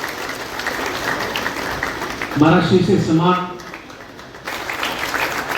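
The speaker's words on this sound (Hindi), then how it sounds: "तालियां बजती।" An audience at a Kargil Vijay Divas ceremony honoring martyrs' families applauds in a steady patter. Someone speaks over it into a microphone midway, and the clapping continues after he stops.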